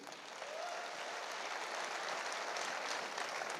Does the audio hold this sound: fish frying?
no